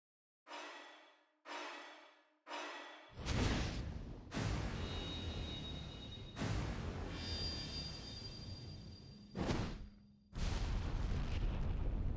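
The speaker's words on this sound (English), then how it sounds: "The burning butt ignites the liquid in a sudden massive blaze." In the video game 428: Shibuya Scramble, a burning cigarette butt ignites spilled liquid: three short rising whooshes, then a loud roaring blaze that swells in heavy surges and stays near and dominant, with no voices.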